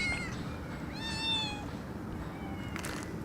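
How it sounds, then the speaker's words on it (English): Kittens meow in short, rising cries, two or three distinct calls over a faint hissy background, fairly close but quiet. "Are these kittens fighting?"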